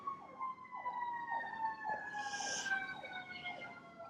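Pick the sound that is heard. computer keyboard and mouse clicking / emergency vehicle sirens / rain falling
emergency vehicle sirens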